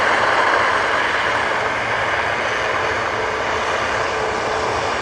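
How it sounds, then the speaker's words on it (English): Loganair ATR 72 turboprop rolling down the runway for takeoff at Manchester Airport, a steady broadband engine roar that stays loud and even throughout, with no voices. "ATR 72 for Logan Air now on the roll."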